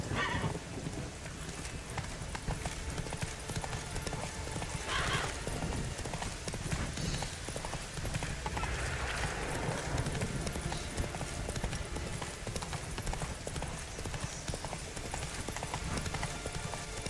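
Roach the horse galloping in The Witcher 3, a rapid, continuous drumming of hooves over a steady rain-like wash of ambience, with brief louder accents scattered through.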